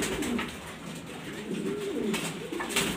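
A pet pigeon coos repeatedly while bathing in water, its low rolling calls close and clear over a soft background hiss.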